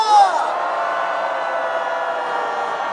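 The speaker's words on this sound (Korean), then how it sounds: "김봉현 목사님께 다같이 함성 5초간 발사" A large crowd at a Save Korea national emergency prayer rally in Daejeon lets out a sustained, loud roar of shouting and cheering that holds steadily for about three seconds.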